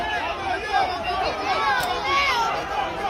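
Agitated crowd confronting NYPD officers during an arrest of a migrant in New York City, a dense babble of overlapping shouting voices, close and loud, with chaotic movement throughout.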